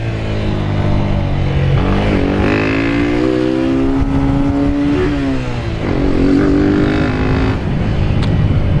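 A motorcycle rides along in a group street outing in São Paulo's east side, its engine droning loudly with rising and falling revs close to the microphone throughout.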